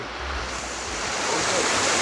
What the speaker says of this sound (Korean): 여기 아래로도 이렇게 물이 흐르고 있어요